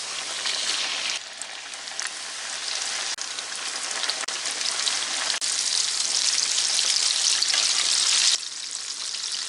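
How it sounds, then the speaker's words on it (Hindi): Chicken pieces for a KFC-style zinger burger frying in hot oil, a steady dense sizzle and crackle throughout, briefly dipping then swelling louder near the end, with no talking. "ऑयल गरम हो गया, इसको फ्राई कर लेते हैं।"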